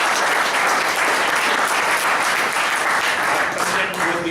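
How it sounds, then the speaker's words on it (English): Dense, continuous audience applause fills the room at an evaluation session, loud and steady throughout with a brief dip near the end. "A big round of applause to"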